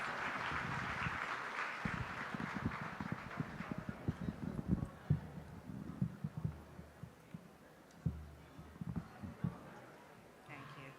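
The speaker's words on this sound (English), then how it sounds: "Let's welcome her to the stage with a round of applause." An audience at a book launch and award ceremony claps to welcome a speaker to the stage, a broad roomy wash of applause that starts dense and thins into scattered claps, with voices talking underneath.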